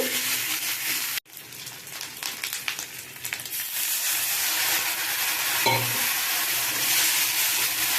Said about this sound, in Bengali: মশলাগুলো একটু সব কিছুর সঙ্গে ভালো করে কষে নেব কষা হয়ে গেছে